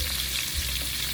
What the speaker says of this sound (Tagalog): Bali nag-prito po tayo ng isda.